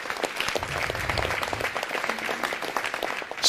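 Crowd applause at a city council meeting honoring a high school valedictorian, a continuous wash of clapping from a roomful of people, fairly loud and unbroken throughout.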